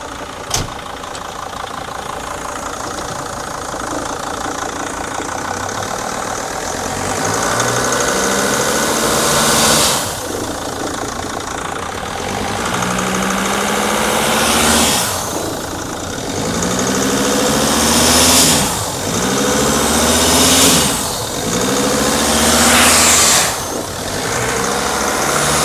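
A car engine in limp mode with low boost pressure is held under a power brake test, rumbling steadily and then revving up in several rising surges that fall back, loud and close.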